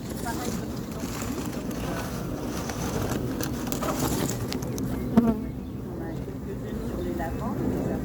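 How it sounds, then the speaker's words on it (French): A swarm of honeybees being collected from a ladder at Combs-la-Ville, France, a steady outdoor buzzing drone under people talking in French. "Je suis juste au niveau de l'essaim avec l'échelle."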